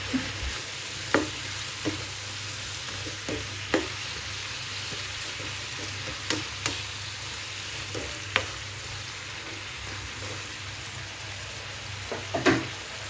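Quail frying in a pan, with a steady sizzle beneath repeated scrapes and clinks as the pieces get stirred at irregular intervals.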